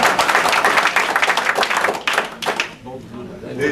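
An audience at a political gathering in Gironde claps steadily, a dense patter of applause that thins out toward the end, with voices mixed in.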